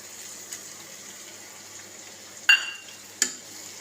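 Ivy gourd pieces frying in a pan with a spice mix, a faint steady sizzle with two sharp scraping clatters of stirring near the end.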